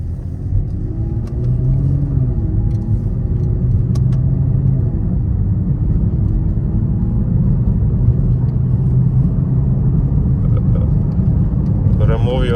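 A Genesis 5.0 car drives along the road and swings through a U-turn, its engine a steady, loud low drone heard from inside the cabin, with a slight pitch rise partway through.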